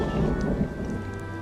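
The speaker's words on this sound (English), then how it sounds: "There's a storm front coming in." Thunderstorm outdoors with a steady hiss of heavy rain and a low rumble of thunder underneath, dense and continuous throughout.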